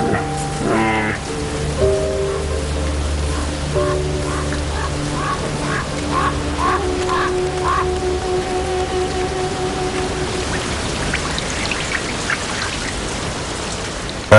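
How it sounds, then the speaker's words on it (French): Steady rain patters and hisses throughout in the Ural Mountains forest, with soft sustained tones drifting underneath. "La pluie ne trouble pas les activités des ours. L'eau ruisselle sur leur pelage épais."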